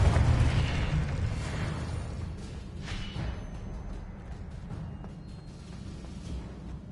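A Confringo fire-blast spell explodes in Hogwarts Legacy: a loud, deep booming blast that hits at once, then rumbles and crackles as it slowly dies away, with no talking.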